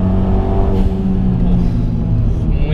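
Renault Megane RS 250 compact hatchback drives over a bumpy road section, its engine a low, steady drone with road rumble filling the cabin, close and continuous.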